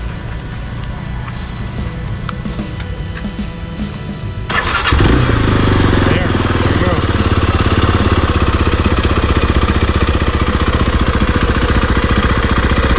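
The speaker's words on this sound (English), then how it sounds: "to start the engine, you basically just" A Zontes 310R motorcycle engine cranks and fires, then settles into a steady, close idle with a rapid low rumble; a voice speaks briefly just before it starts.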